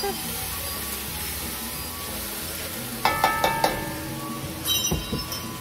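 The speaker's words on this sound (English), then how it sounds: "you put the onions in the oil and you saute that" Onions sauteing in oil, a steady low sizzle broken midway by a quick burst of clinking and scraping against the pan, then a second clatter near the end.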